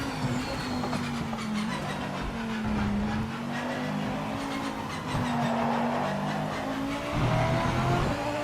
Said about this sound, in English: the tyre scrubs sounds horrible